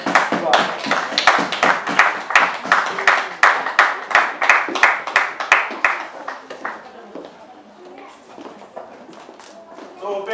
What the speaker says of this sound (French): Let us clap for the Lord. Clap for Jesus.